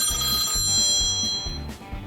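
Telephone bell ringing in repeated bursts, loud and close, with bright metallic tones sustained throughout and a low rhythmic mechanical thumping running underneath.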